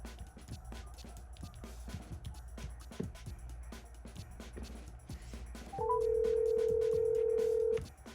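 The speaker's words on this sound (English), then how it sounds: "let's check whether or not we can make a phone call" Call being placed on a Samsung Galaxy S9 over LTE: a quiet stretch of faint background noise, then a steady ringback tone starts abruptly and holds loudly for about two seconds before cutting off.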